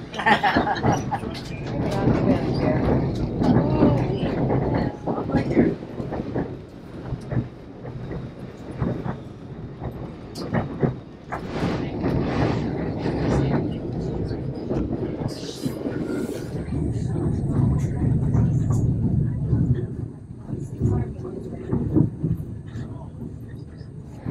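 Steady rumbling and clatter of a moving train carriage in Skagway, Alaska fills the whole stretch, loud and continuous, with a voice talking over it.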